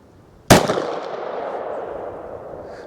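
A single loud 10mm Auto pistol shot fired at an outdoor ammunition test comparing Buffalo Bore, Grizzly and Underwood loads: one sharp, close blast followed by a long rolling echo that decays slowly.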